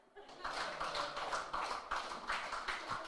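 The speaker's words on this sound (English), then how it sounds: "Let's give a clap for the pregnant woman." Church congregation applauding a pregnant woman during a morning service, a steady, rhythmic run of many hands clapping together, fairly close and continuous throughout.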